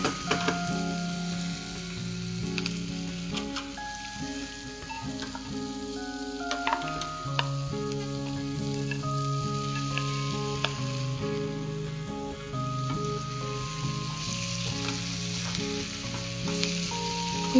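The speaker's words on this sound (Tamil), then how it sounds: "இந்த மாதிரி வதங்கினதுக்கு அப்புறம் இட்லியை வந்து நம்ம இதுல சேர்த்துடலாம்" Idli pieces fry in a pan with masala, giving a steady, close sizzle that runs throughout, with occasional stirring scrapes and a faint tonal background underneath.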